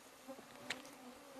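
A swarm of mosquitoes whines faintly in the open air: a thin, continuous buzz with one brief louder pass near the middle, and no talking.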